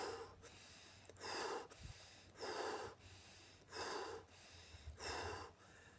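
Rapid rhythmic breathing for a relaxation exercise: five or six strong, even breaths repeat about once per second, each a forceful airy rush, close and alone with a low steady hum behind.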